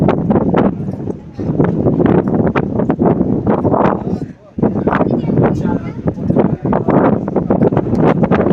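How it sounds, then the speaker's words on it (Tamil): Strong wind buffets the microphone in loud gusts at Vivekananda Rock, Kanyakumari, while a person talks over it in Tamil, with a brief lull midway. "செம்ம காற்று"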